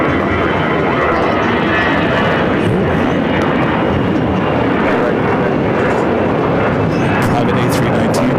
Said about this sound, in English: This is Flight 201 headed back to Seoul,